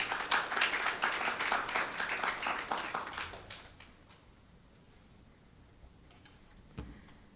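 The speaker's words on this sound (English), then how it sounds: "Give her a round of applause as she comes." Audience applause at a university lecture event, crisp rhythmic clapping loud at first then fading out after about three seconds into quiet room tone with a faint knock near the end.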